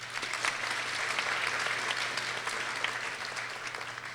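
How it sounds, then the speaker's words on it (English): Sustained applause from a ceremony audience for Dean's List awardees, a dense, even wash of clapping that holds steady throughout with a faint low hum beneath. "that applause that you were given was actually for yourselves"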